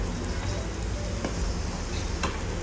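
Sheera with cardamom powder stirred in a pan, a steady dense sizzle with soft scraping running throughout at close range, no voices.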